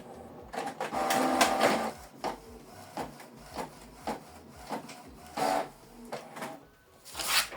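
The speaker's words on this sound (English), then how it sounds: "So this document is now printing." A Canon Pixma G3590 inkjet printer prints a one-page document, giving a run of mechanical whirring, rubbing and clicking pulses with short pauses, the feed motor surging near the start and again near the end.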